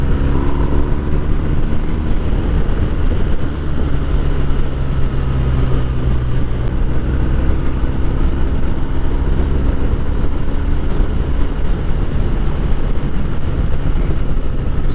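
A 2020 BMW R1250 R motorcycle is ridden on the road, with a loud, steady engine drone and rushing wind running unbroken throughout and no voices.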